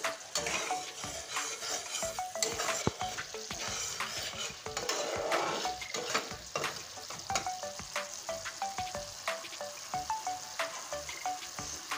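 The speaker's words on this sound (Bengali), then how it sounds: "মশলাটা সুন্দর করে কষিয়ে নিচ্ছি।" Spice paste sizzles and fries in a pan while a utensil stirs it, giving steady crackling and repeated scraping, clinking strokes close by.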